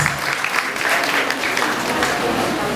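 A graduation ceremony crowd gives loud, dense applause for the saxophone performer Maestro Junior Sax, a sustained roar of clapping with voices mixed in.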